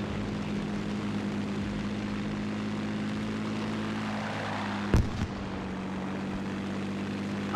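Propeller airplane engine in the video game Battlefield V, a steady droning hum that swells as the aircraft passes close by, with a sharp explosive bang near the end.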